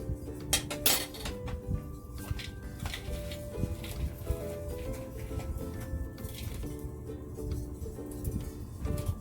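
Apple stuffing mixed with brown sugar in a bowl makes close clinks and scrapes of a utensil against the dish, irregular and moderately loud, with no talking over it.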